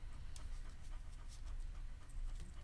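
A dog pants steadily up close, a fast, continuous rhythm of breathy huffs running through the whole moment with no speech over it.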